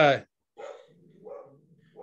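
A dog gives one short, loud bark at the very start, followed by someone talking close by.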